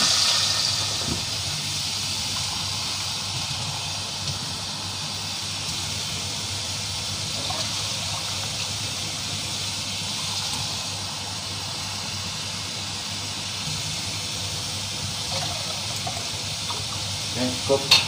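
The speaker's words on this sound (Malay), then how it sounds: "Dengar bunyi desiran dah." Water poured into a hot pot for fish soup sizzles and hisses steadily, a continuous bright wash of steam noise with faint kitchen clatter at the end.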